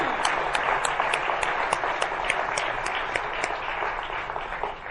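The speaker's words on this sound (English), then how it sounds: "give all of our award winners our most sincere and sincere applause and gratitude" Steady applause from a sizable conference audience for award winners, many hands clapping continuously at an even level throughout.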